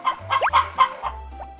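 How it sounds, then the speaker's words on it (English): Chicks clucking in the farming game Harvest Moon: Back to Nature, a run of short chirpy clucks and one rising peep over a low game hum, close and clear with no talk. "Every time I come in here and you cluck at me, I hear it every day."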